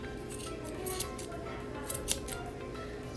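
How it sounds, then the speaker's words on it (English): Several quick snips of scissors trimming the loose yarn strands of a craft pom-pom into a round shape, sharp close clicks spaced irregularly over a quiet room background. "you just need to cut off all the pieces and kind of round it out"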